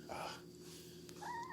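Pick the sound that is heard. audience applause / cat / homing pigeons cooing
cat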